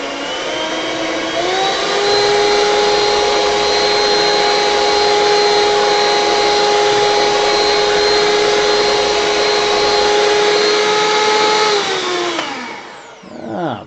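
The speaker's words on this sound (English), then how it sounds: "Can't resist the power of the whisk." An electric whisk runs loud and close with a steady motorized whine, holding at one pitch for about ten seconds before spinning down near the end, no talking.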